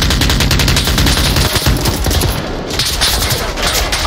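Sustained automatic gunfire in the VR shooter Onward, a loud continuous fusillade of rapid overlapping shots with no talking.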